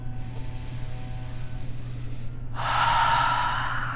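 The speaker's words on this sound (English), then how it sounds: "let's take a breath with that" A person draws a breath during a guided Reiki healing meditation, a soft airy inhale rising in the second half over a steady low hum, with no talking.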